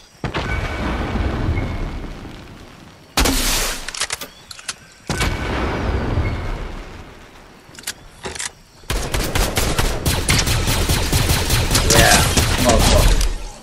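Bursts of rapid automatic gunfire and booming blasts from a Fortnite match, loud and close, coming in several volleys separated by short pauses and ending in a long sustained barrage, with a player's voice briefly heard between the shots.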